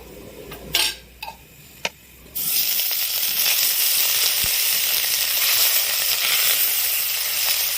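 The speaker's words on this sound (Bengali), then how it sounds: "বাদবাকি মাছ তেলে দিয়ে দেবো।" Pieces of rohu fish go into hot oil in a pan: a few utensil clinks and knocks come first, then a loud, steady hiss of frying sizzle rises and holds close up for the rest.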